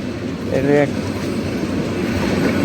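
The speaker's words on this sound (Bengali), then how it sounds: "ট্রেন চলে গেল" A meter gauge passenger train rolls past as a steady, loud, broadband rumble with faint clatter, heard close by, with a brief voice near the start.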